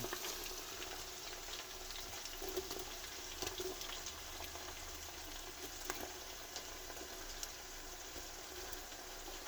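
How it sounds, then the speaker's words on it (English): Tomatoes frying in a pan on maximum heat, giving a steady, close sizzle with faint crackles that runs throughout with no talking. "the goal is to fry the tomato"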